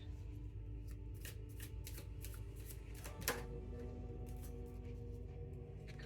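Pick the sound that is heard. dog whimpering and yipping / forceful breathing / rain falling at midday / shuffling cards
shuffling cards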